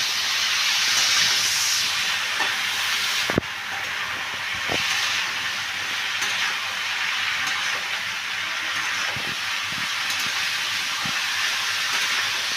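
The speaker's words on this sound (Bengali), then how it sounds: "এইবারে আমি সবকটা উপকরণকে ভালো করে মিশিয়ে নিচ্ছি।" Tomato, salt and spices sizzle steadily in a hot pan for a curry of snake gourd, potato and egg, with a few sharp clanks of stirring over the constant hiss and no talk.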